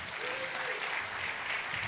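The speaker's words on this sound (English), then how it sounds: "Can we have a hand clap of honor" Congregation at a missions convention church service giving a hand clap of honor, sustained dense applause that stays fairly quiet and even across the short stretch.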